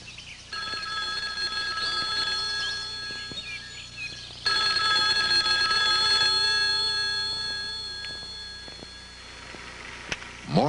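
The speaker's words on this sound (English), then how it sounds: "Morgan receives a phone call from a logger named Skip Wood" A telephone rings with a steady tonal trill lasting several seconds, a fairly clear electronic-bell pattern against a faint background.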